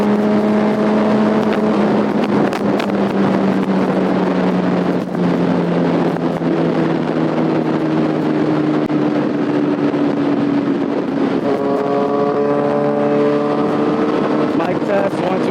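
A Yamaha R1 motorcycle pulls hard through its gears at speed, engine tone rising steadily then dropping and climbing again, with loud constant wind buffeting over the microphone throughout.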